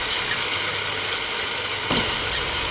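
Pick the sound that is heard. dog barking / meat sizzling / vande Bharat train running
meat sizzling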